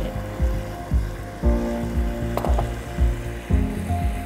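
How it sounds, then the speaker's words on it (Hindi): Rice fries in oil in a pot with yellow food colouring and kewra nearby, a steady close sizzle under recurring rhythmic scraping or clattering from stirring. "ये अच्छी तरह भून रहा है"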